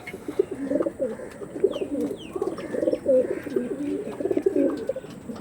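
Tournament-quality racing pigeons coo softly in a continuous, rhythmic murmur, several birds overlapping at moderate distance with faint chirps above.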